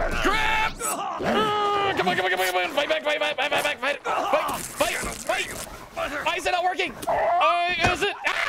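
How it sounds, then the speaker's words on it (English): A dog in the survival video game The Long Dark barks and yelps repeatedly in quick bursts, mixed with loud, excited talking from players. "Yeah, there's a dog over there."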